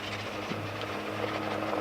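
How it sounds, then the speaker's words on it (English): Steady low rotor thrum of a helicopter passing overhead at a distance on a hiking trail near Sedona, Arizona, a continuous drone with no talking. "Helicopters overhead."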